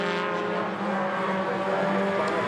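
Sports 2000 race cars, a red Tiger and a Lola among them, race through Coppice Corner at Donington, their engines roaring loud and continuous with a steady, harmonic-rich drone throughout.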